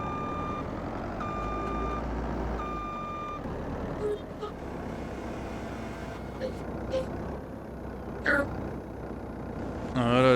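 A farm truck reverses with a steady run of evenly spaced beeps over its idling engine. Someone talks now and then, and a few scattered clanks and thuds follow once the beeping stops.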